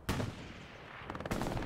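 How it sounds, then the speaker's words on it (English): Machine gun fire in the video game Hell Let Loose, a loud burst of rapid shots followed by a short rattling string of rounds, heard up close with no talk. "an MG shooting down from Root Harass"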